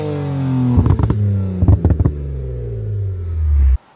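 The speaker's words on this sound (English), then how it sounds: "Now the car sounds really good." A BMW 335i with upgraded turbos idles, then is revved in two quick bursts of sharp throttle blips before settling back to a steady idle and cutting off abruptly; the engine is close and loud, with no talking.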